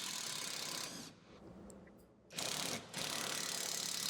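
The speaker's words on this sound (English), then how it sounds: "using your 18mm open-ended wrench and your 15mm short socket, go ahead and remove the upper bolt of the rear shock absorber" A ratchet and socket work a bolt loose on a Ford F150 rear shock absorber, giving a steady, faint mechanical clicking with a couple of short pauses.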